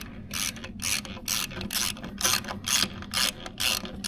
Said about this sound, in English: So you can tighten those little 13 millimeter bolts up.